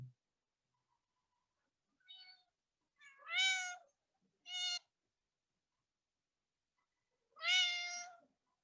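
A cat meows a few times with long quiet gaps between, the calls drawn out and whiny, the last one the loudest, against near silence.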